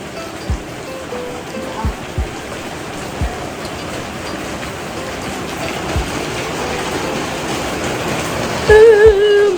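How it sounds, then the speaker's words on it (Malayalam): Rain falls steadily in a continuous broadband hiss with a few soft dull thumps of drops hitting a surface, and a slightly louder patch near the end. "സാധാരണ മഴ പതിവുള്ളതാണല്ലോ, അങ്ങനെ മഴ വന്നു"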